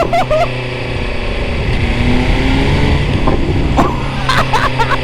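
A 2025 BMW S1000R motorcycle, about 150 horsepower, runs close by with a loud engine drone and occasional sharp crackles and pops from the exhaust.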